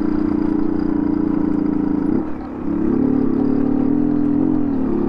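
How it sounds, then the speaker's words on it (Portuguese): Motorcycle engine with piston slap from a worn piston skirt, running steadily up close on a long South American ride, a constant mid-pitched drone that dips briefly halfway before resuming at the same steady level. "tá batendo saia de pistão"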